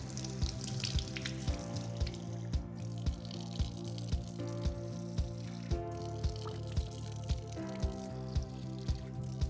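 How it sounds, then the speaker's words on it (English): Water runs from a sink tap in a steady, moderate stream while someone rinses their face, with light rhythmic splashes recurring throughout. "I'm about to rinse my face"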